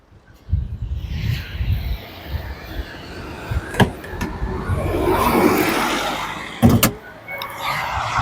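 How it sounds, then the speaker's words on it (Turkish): A car's engine bonnet is opened during driving-test training, with mechanical rattling and rustling, two sharp latch-like clunks and a stretch of louder scraping handling noise close by, and no speech. "Açıyorsun motor kaputunu"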